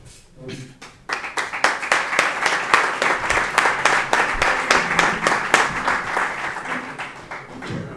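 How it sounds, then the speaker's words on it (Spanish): Applause for the mayor of Pozoblanco at a bullfighting awards event, a dense, loud burst of clapping that swells after a quiet start and holds steady, with voices underneath. "Aplauso para él."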